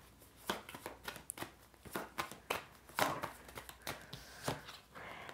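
Tarot cards being shuffled by hand, a quick series of crisp riffles and slaps in an uneven rhythm, close and fairly quiet, with no speech.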